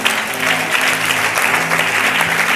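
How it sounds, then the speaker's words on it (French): Applause from a church congregation during a Sunday worship service, steady dense clapping filling the room for the whole span with a low hum underneath. "Moi, je pensais que tu allais acclamer pour ça."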